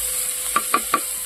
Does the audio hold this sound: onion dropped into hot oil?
yes